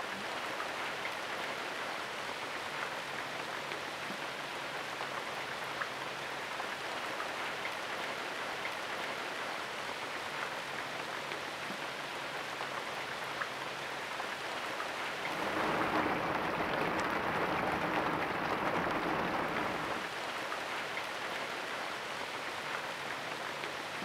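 Steady rain falls on a wet outdoor hide setting during kingfisher photography, a dense even hiss that swells louder for a few seconds midway before settling back, with no voices.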